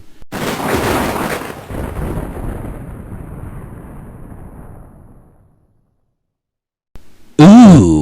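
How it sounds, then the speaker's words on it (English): A loud, close rumble of thunder rolls and slowly fades over about five seconds, then silence, then a brief burst of other sound at the end. "Ooh, thunder."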